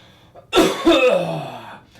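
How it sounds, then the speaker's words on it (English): A single harsh cough, or throat-clear, close to the mic, with a short second burst trailing off. "coughing is my new favourite thing to do in front of the mirror"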